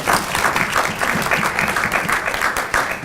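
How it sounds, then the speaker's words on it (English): Audience applause at a scholarship fundraiser event, many people clapping together at a lively, fairly loud and steady level, with no talking over it. "Give yourselves a round of applause."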